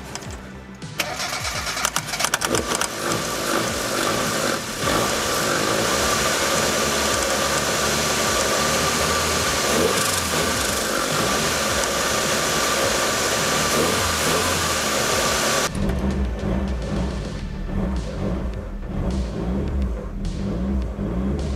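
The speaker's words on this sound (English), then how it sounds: "So it's starting, but I gotta hold it idle, but it is starting." A turbocharged Mazda B2200 engine cranks and catches, then roars into a loud, steady high idle that holds for many seconds before dropping to a lower, rougher rumble, with no talking over it.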